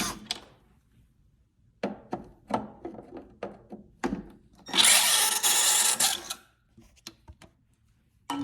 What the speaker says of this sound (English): we're going to take our Phillips head screwdriver here, and we're going to pull out these two bolts that connect the tail light into the vehicle